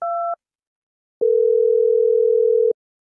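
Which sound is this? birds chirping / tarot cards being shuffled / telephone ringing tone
telephone ringing tone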